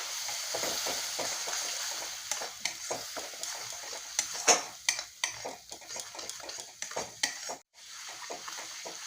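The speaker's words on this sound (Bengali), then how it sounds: "এখন ভালোভাবে একটু কষিয়ে নেব" A spice masala with Kashmiri chilli powder and a splash of water being sautéed in a pan: a soft steady sizzle under repeated quick scrapes and taps of a spatula against metal, irregular and close.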